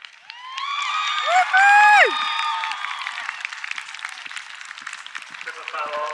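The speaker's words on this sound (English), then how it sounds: "Oh, hear the crowds." Spectators at a Bicton 5* horse eventing cross-country course cheer and whoop as a horse clears a pair of oxer fences, with shouts and applause rising sharply, then settling into scattered crowd noise.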